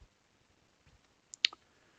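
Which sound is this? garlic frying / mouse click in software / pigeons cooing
mouse click in software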